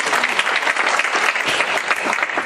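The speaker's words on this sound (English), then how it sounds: "give me a round of applause for everyone" A crowd claps warmly at the opening of a charity band-a-thon concert raising money for a hospital expansion, continuous close applause with no pause.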